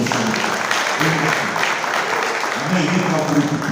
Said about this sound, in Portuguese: Dê um aplauso ao Senhor e fique de pé.